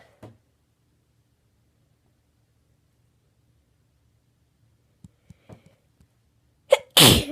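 A long quiet stretch with a few faint breaths and clicks builds to a single loud, sudden sneeze at the very end.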